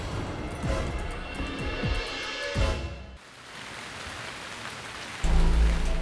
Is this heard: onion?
no